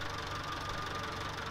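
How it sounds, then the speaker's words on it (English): A 1950s rotary tiller hitched behind an oversized tractor, running with a steady, low droning engine hum and faint rhythmic knocking, continuous and moderately close with no talking. "a rotary tiller from the 1950s"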